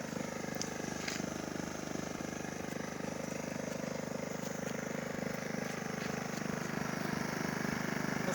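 A Wen 2350W inverter generator runs in eco mode, a steady, fairly quiet engine drone with an even buzzing hum that holds unchanged throughout and is heard close by.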